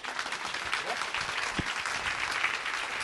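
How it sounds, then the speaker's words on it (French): Studio audience applauding after a comedy sketch in a French radio-TV broadcast, a steady wash of many hands clapping, moderately loud and unbroken for the whole stretch. "on peut l'applaudir très très fort"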